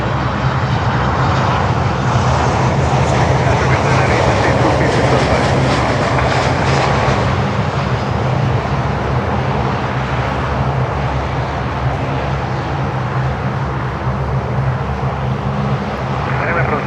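A Boeing 787 Dreamliner passes at an airport, a loud, sustained engine roar with broad rushing noise that swells slightly and then eases, continuous throughout the pass.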